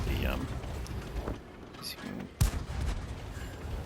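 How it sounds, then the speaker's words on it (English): Tank cannon firing in World of Tanks, a few punchy booms amid game engine rumble and battle noise, with someone talking over it throughout. "punchy gun with a high rate of fire"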